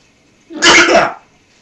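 A single sneeze bursts out close and loud, lasting about half a second with a sharp broadband onset, then falls back to near silence. It is heard alone, during a casual co-op gaming session.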